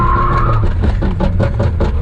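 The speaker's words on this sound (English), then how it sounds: "Damn it, we broke the tire." Mazda Miata drifting on a tire that is blowing apart: loud, continuous engine roar with rough, fluttering tire noise and scrubbing, close up and steady throughout.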